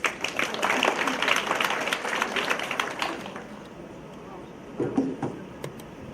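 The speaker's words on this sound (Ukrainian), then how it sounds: "Ваші оплески" An audience at a nursing forum in Lviv applauds a speaker, dense clapping that fills the hall for about three seconds before fading, followed by scattered sounds and a short voice.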